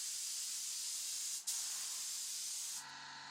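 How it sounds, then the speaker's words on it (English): A spray gun lays a coat of water-based varnish on a handmade wooden cot, a steady close hiss with one brief break before it trails off at the end. "For finish, I'm using water-based varnish, and I'm applying it by spray gun"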